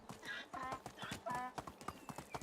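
Horse hooves clip-clopping during riding in the video game Medieval Dynasty, a steady run of close hoof beats lasting a couple of seconds.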